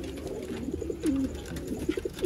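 Sialkoti pigeons of the chuhay kabootar breed coo softly in a few short, low calls, close by over a steady background hum.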